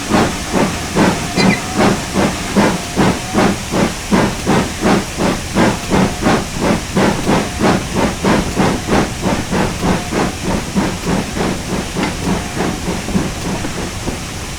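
Rhythmic steam hissing from a GWR 7800 class steam locomotive, loud and close, a steady train of regular chuffing bursts about twice a second that keep an even pace throughout.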